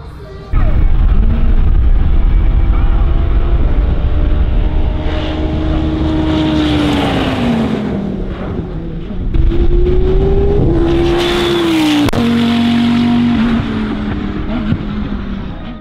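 Audi R8 race car tearing down the 900 m Motopark backstretch in Finland at around 280 km/h, engine roaring loudly and climbing in pitch through gear changes, with short dips between shifts.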